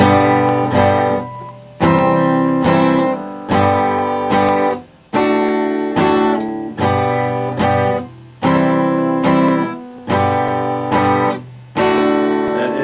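Steady strummed guitar chords move through a repeating I–IV–I–V progression, each chord struck in even rhythmic bursts, loud and close with no talking.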